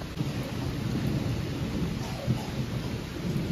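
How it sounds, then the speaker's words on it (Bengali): Heavy rain pours down in a steady, dense roar during a thunderstorm, with low rumbling thunder rolling beneath it throughout; close and continuous, no voices. "দেখো বৃষ্টি কাকে বলে, পুরো ঝড়, এতক্ষণ ঝড় হচ্ছিল।"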